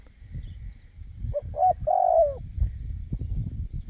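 A caged Thai decoy bird sings outdoors in hill country, a few clear whistled notes rising and falling mid-clip over low background rumble and handling noise.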